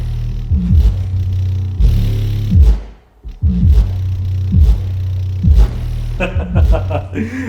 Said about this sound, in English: You see that? Just a clean bass. And all my everything is shaking, like chargers, my DeWalt's.